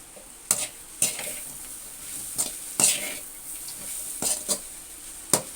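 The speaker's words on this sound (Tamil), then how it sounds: "மல்லித்தழையை சேர்த்து கிளறி விட்டுக்கலாம்." Chapathi noodles tossed with coriander leaves in a pan, giving a steady sizzle with repeated sharp scrapes and clinks of a spoon against the pan, close and fairly loud.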